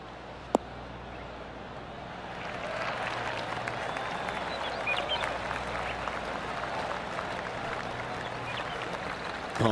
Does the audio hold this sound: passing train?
no